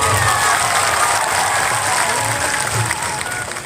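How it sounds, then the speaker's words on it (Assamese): A large audience at a Rabha literary society gathering attended by the Assam chief minister applauds loudly, dense sustained clapping close and continuous throughout. "জোৰছে হাত চাপৰি"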